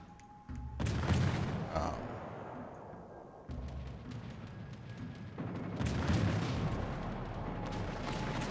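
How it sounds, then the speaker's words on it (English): A battleship goes down amid heavy naval gunfire in World of Warships Legends, with loud booming artillery blasts and rumbling explosions that swell and recede across the whole stretch. "There goes the battleship down."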